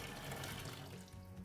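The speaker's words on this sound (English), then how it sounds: "So I'm just going to take all the water out." Water being drained from a pan of carrots in a kitchen with an Everhot cooker, a continuous close pouring rush that eases slightly toward the end, with no voices.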